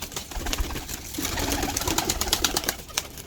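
Habshi pigeon cooing amid a busy, noisy background, the low coos blending into a steady wash of rustling and ambient sound, with no voices.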